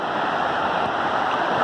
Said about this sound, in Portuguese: as ondas são mais bravas